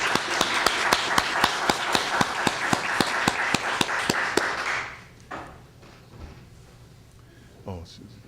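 Rhythmic, evenly spaced sharp claps over a bed of crowd clapping at a library poetry reading, lasting several seconds before fading into a quieter room with faint scattered noises.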